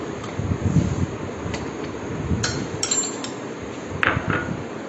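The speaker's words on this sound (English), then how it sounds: "You grease the bowl with the butter, ghee, anything." Butter or ghee being spread around a bowl for tiranga custard, with faint scraping and a few light clinks of a utensil against the bowl over a steady low background hiss.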